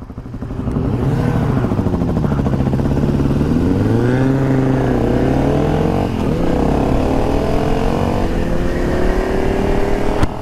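A BMW G 650 X Moto supermoto motorcycle revs and rides close by, its single-cylinder engine rising and falling in pitch through steady throttle changes, loud and continuous with no talk.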